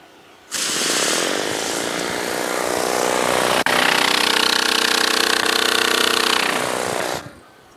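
Commercial pressure washer undercarriage cleaner spraying at 3,500 PSI and 4 gallons a minute through two number 3 nozzles, a loud steady hissing roar that starts abruptly, holds for about seven seconds and cuts off.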